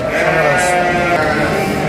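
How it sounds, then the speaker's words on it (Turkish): Lambs bleat repeatedly close by, high wavering cries layered over one another at a busy livestock market in Çorum. "burada kuzular var"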